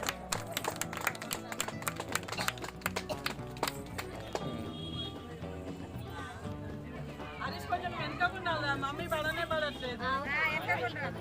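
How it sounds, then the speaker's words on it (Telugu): Guests applaud at a Shashtipurthi sixtieth-birthday family function, scattered sharp claps at first, then denser clapping mixed with lively chatter and background music. "క్లాప్స్ కొట్టండి కొట్టండి క్లాప్స్ కొట్టండి"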